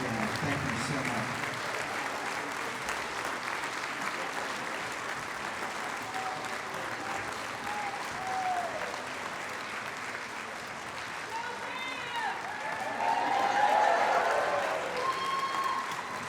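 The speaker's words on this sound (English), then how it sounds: "One more round of applause, please, for Fran Shelton and the Ashville Community Band." A concert audience applauds Fran Shelton and the Ashville Community Band, sustained dense clapping that swells slightly near the end, with faint voices mixed in.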